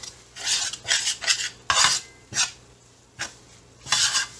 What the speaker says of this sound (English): Now mix all this.